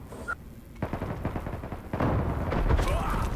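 Gunfire in the online shooter Zula, a run of rapid shots at close range that grows louder and denser toward the end, with some voice in the mix.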